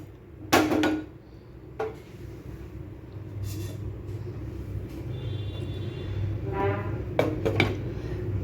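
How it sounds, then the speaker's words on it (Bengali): A metal lid clatters onto a pan of simmering paneer kofta gravy, several sharp clinks and knocks spread over a low, steady background hum of the stove. "আমি এই গ্রেভিটাকে একটু ঢেকে দেব 5 মিনিটের জন্য"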